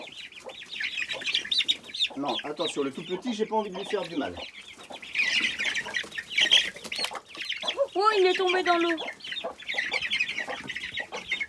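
Hens clucking and squawking in bursts throughout, close by among month-old chicks, while a person talks over them.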